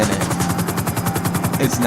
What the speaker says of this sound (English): So we're gonna go ahead and land this helicopter down here